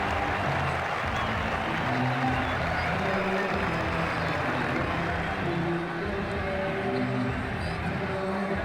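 A stadium crowd applauds and cheers steadily in Ashes Cricket 2009 after a big hit, a dense continuous wash of noise without separate claps.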